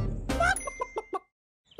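Hen clucking: a short squawk followed by a few quick clucks, close and clear, then silence.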